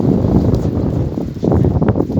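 Gusty wind rumbling across the microphone, loud and continuous for a couple of seconds, with no speech.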